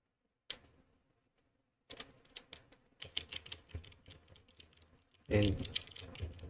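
Keys clack on a mechanical keyboard in irregular bursts of sharp taps, fairly close and quiet, with a louder burst of clatter near the end.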